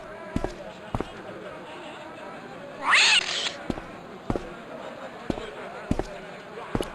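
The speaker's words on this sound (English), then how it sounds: "The cat was an ugly brute who looked like he owned the joint." A cat in the Broken Sword point-and-click game lets out a single sharp, raspy hiss about midway, set among sparse, regular clicking and thudding sounds.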